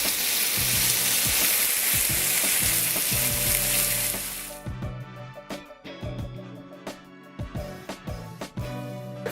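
Chicken frying in a pan, a loud steady sizzle for about four seconds that then gives way to clattering stirring and scraping sounds, close and with no talking.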